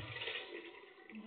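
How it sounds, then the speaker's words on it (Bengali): Water is poured into a pot of dal khichuri, a short steady splashing pour heard up close and alone. "জল দিয়ে দিলাম।"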